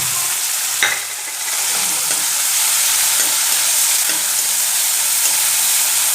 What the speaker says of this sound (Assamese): এনেকৈ মই 2 মিনিটমান ভাজি ল'ম